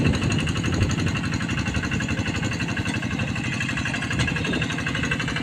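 A Kubota RD 85-2S diesel tractor fitted with wheels works a rice paddy, its engine chugging in a steady, rapid, rough throb that holds at an even loudness throughout.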